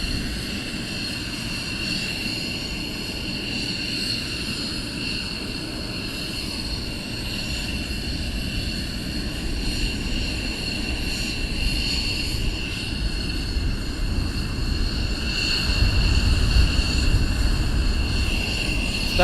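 Military jet aircraft taxi at RAF Lakenheath during surge operations, a steady loud engine roar with a high whine that holds throughout and swells slightly near the end, with no voices.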